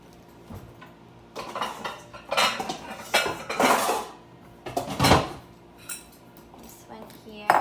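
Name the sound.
grabbing a mixing bowl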